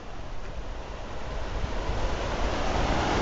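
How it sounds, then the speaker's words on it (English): Water rushes steadily over the ruins of old Dam No. 3 on the Potomac River, beside the C&O Canal in Washington County. It is a continuous, fairly loud broadband roar with no voices. "Probably you can hear the water flowing over it."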